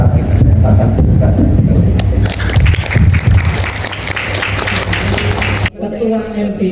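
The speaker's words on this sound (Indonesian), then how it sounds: "tepuk teman-teman" An audience of teachers at an education appreciation event claps loudly and continuously, the applause overlapping with speech over a sound system before it cuts off abruptly near the end.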